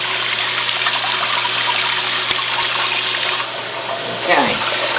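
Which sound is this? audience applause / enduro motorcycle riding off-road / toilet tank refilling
toilet tank refilling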